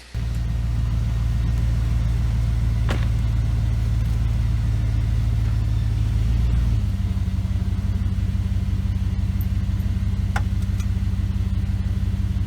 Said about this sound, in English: attach it to a tree and back up to straighten the bumper out